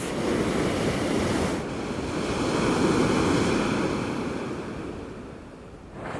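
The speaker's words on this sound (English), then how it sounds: "Waves look a lot rougher down this end." Ocean waves break and wash steadily onto a foggy Portuguese beach, a continuous roaring surf that swells and eases, with wind buffeting the microphone throughout.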